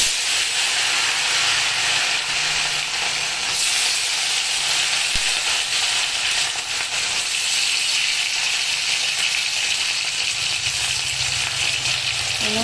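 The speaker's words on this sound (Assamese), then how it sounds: "পাঁচফোৰণখিনি ফুটিব যেতিয়া, তাৰপিছত মই ফুটি আলুখিনি দি দিম।" Potatoes and five-spice sizzle in hot oil in a wok, a loud, continuous, dense hiss with no break throughout.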